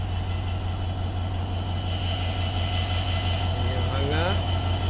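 Steady low rumble and rolling clatter of a passenger train around Bhanga railway station in Bangladesh, loud and continuous, with a brief whistle-like rising tone near the end and people talking faintly.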